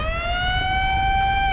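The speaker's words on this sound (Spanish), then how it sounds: "Esa sirena que más suena, ¿eh?" A wailing siren in the video game Resident Evil Revelations 2, loud and steady with a sustained, slowly bending tone that fills the whole moment with no talk over it.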